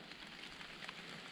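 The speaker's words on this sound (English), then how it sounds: "it's raining." Steady rain patters softly on surfaces in the Otways forest, a faint, even hiss with scattered drips, no voices.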